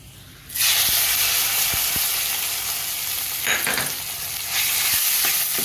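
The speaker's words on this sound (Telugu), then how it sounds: "స్టవ్ పైన బాండి పెట్టేసుకొని ఇట్లా తిరగమాత దినుసులు వేసుకొని తిరగమాత కాగాక పచ్చడిలో కలిపేయాలండి" Tempering spices hit hot oil in a pan for ridge gourd chutney, a sudden loud burst of sizzling after a quiet start, then a sustained frying hiss with a few sharp ticks and crackles.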